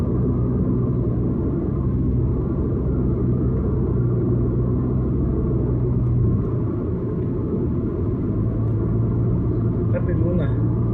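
Highway traffic passes in a continuous low, heavy rumble, steady and fairly loud throughout with no clear individual passes.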